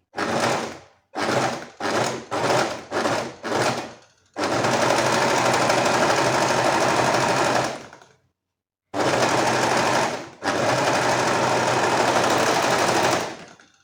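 An overlock serger stitching fabric runs in five short rapid bursts, then two long continuous runs separated by a brief pause, loud and close with a fast mechanical whir.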